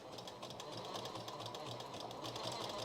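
A sewing machine stitches invisible piping in a steady, continuous rapid whir, close and even throughout, with no talking.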